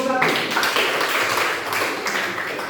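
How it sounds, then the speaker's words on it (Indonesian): A school class claps for a student group after its presentation, a dense, steady burst of many hands close by and fairly loud for a few seconds. "Tepuk tangan untuk kelompok 1"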